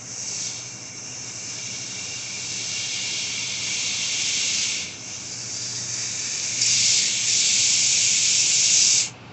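Compressed air blown into the gas tank of a Craftsman push mower with a Briggs & Stratton 5.50 engine, making a steady loud hiss that briefly dips midway and swells stronger near the end.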